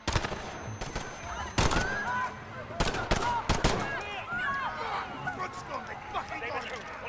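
Gunfire in the Call of Duty Modern Warfare campaign's Piccadilly mission: loud rapid bursts and single shots crack through a busy, chaotic game soundscape, with distant bangs and background commotion throughout.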